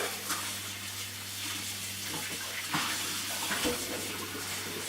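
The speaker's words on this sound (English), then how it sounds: "you're going to want to rinse your turkey thorough" Tap water runs steadily into a sink as a whole turkey is rinsed, a constant close hiss and splash with a few louder splatters and no talking.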